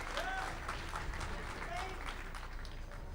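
Crowd at a speedrun charity event for Mirror's Edge cheering and applauding, a dense continuous clapping wash heard from the audience, fairly distant, with some voices mixed in.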